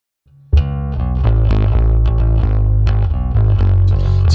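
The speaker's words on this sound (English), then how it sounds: "can even hear the distortion kind of kicking in" A thick, distorted bass guitar plays a driving line with gritty, saturated tone and strong low end, loud and close, with no voices.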